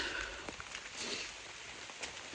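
Steady rain falls along the Appalachian Trail, a dense continuous hiss with scattered drop patter close by and no talking.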